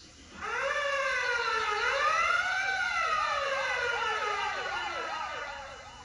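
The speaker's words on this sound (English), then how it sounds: "Sounds like a fire engine." A fire engine siren wails loudly, rising and falling before breaking into a fast warbling yelp, continuous and close.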